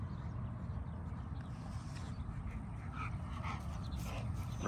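Large XL Pitbull dogs moving about outdoors, with a steady rough low rustle of movement and panting-like breathing running throughout at close range, alone without speech.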